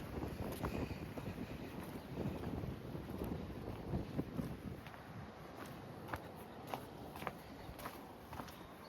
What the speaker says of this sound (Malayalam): കാരണം നല്ല അടിപൊളി കാറ്റടിക്കുന്നുണ്ട്.